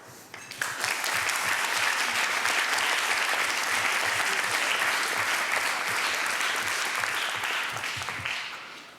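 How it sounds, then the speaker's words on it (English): Loud, sustained applause from a conference audience fills the room steadily for about nine seconds after a short quiet start, with dense overlapping clapping throughout. "I think they deserve a loud clap for that."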